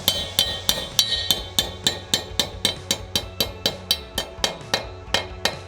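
Steady, evenly spaced hammer strikes drive a wall anchor into brick, about three per second, loud and close, each with a sharp metallic crack.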